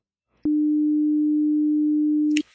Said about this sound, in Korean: 이번엔 301Hz에도 사인파를 쏴보면